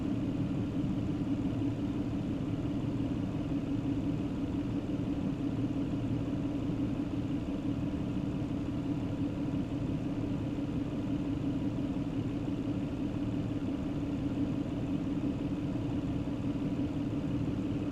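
A 2004 Toyota Camry 3.3L engine idles while warming up toward operating temperature, a steady low rumbling drone that holds evenly and continuously with no talking.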